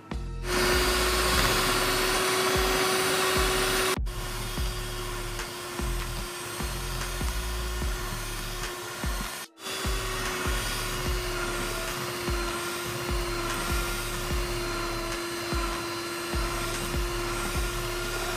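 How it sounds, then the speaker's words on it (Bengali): A blender whirs loudly and steadily, mixing half a cup of flour into cake batter, with two brief stops and restarts partway through. "এটিকে আমি এখন ব্লেন্ড করে নিব"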